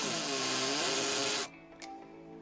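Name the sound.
hammer drill spinning a shaft to clean a Dinky model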